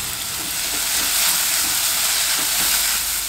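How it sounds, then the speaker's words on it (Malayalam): Hand-chopped mango pieces fry in oil for a pickle, giving a loud, continuous sizzling hiss with faint stirring knocks beneath, steady throughout and close up. "കുറച്ച് എണ്ണ ഒഴിച്ചിട്ട് ഇതൊന്ന് വറുത്തെടുക്കാം."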